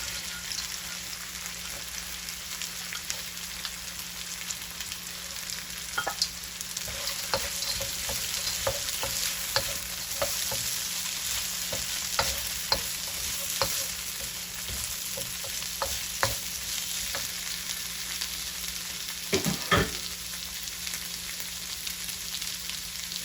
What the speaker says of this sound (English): Now I'm adding my green bean, corns, and lima bean.